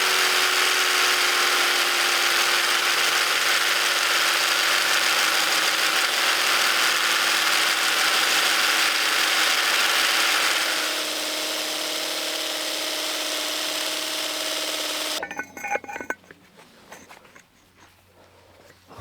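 A power drill whines continuously for about fifteen seconds, its pitch shifting slightly as it works, then cuts off, leaving quieter clattering sounds.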